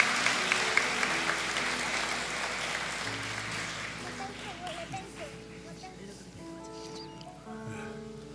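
A Korean church congregation applauds during a Sunday worship service, a burst of clapping that fades over the first few seconds into quieter room noise with murmuring voices and a few tonal sounds.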